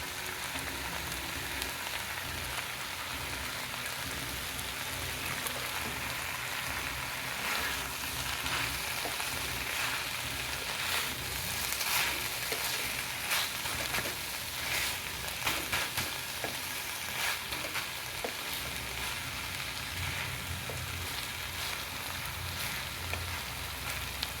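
Food softened in a pan sizzles steadily with sauce added, a constant close frying hiss with light stirring scrapes throughout and no talking.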